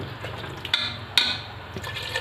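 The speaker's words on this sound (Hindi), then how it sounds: "अब इसमें मैं पानी डालूँगी तो ये और प्रेशर कुकर लगा दूँगी." Water pours into a pressure cooker holding porridge, a short close trickling fill with a couple of brief splashes.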